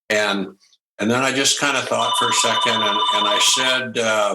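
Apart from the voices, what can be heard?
telephone ringing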